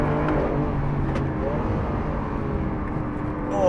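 A Lamborghini Aventador SV with its 740bhp engine accelerates hard on a track, a loud, steady, close roar rising through the revs from inside the car for several seconds.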